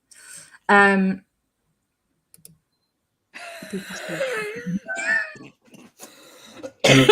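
A person coughs sharply after choking, with a short coughing burst, a pause, then rougher throat-clearing coughs and strained breathing close to the microphone.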